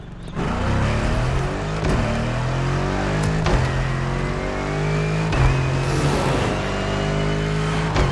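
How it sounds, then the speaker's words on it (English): A BMW Z sports car in the racing game The Crew Motorfest, its engine droning and revving steadily and loudly with gear-change shifts, heard alone with no talk. "This time we're going for a BMW Z."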